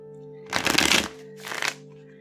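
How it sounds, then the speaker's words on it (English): A stiff tarot card deck being shuffled close up: one longer riffling burst of cards followed by a second shorter burst, each crisp and papery over a faint steady background hum. "I had already pre-shuffled this deck just a tiny bit, just as I was setting it up. So we won't need to shuffle it too terribly long."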